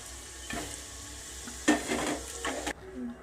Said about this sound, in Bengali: আলুগুলো ভাজা হয়ে গেছে, এইরকম হালকা হালকা ভাজা।